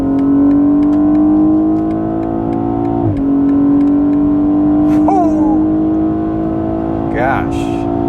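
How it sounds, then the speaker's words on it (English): BMW 840i xDrive Gran Coupe with a twin-scroll turbocharged inline six in sports plus mode, engine droning steadily with pitch rising and falling through gear changes, loud and close throughout. "inline 6 twin scroll turbocharged just makes lovely sound"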